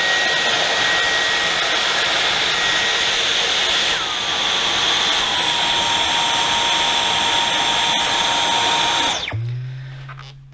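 A Dyson cordless stick vacuum cleaner runs loud and close on its highest boost suction setting, a steady high-pitched whine that shifts pitch a couple of times before spinning down to a low hum.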